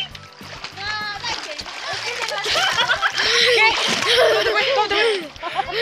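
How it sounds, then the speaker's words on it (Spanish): A child swimming in a river makes repeated close water splashes and sloshing, mixed with children's voices, chatter and snickering laughter throughout. "Yasmín nos va a enseñar cómo se debe de nadar"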